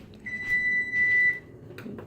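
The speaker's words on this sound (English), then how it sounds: "wait a minute, let me focus. That's the alarm." A household alarm sounds a single faint, sustained electronic beep lasting about a second over a low background hum, followed by a few soft knocks.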